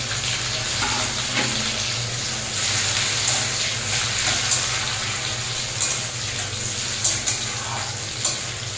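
Chopped tomato fries in oil with onion, five-spice and dried chillies in a pan, giving a continuous wet sizzle broken by scattered sharp crackles and stirring scrapes, with no talking.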